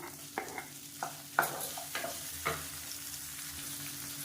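Two medium tomatoes fry in a pan with a black urad dal mixture, a soft sizzle punctuated by several distinct spoon scrapes and taps against the pan, quiet and close, with no talking.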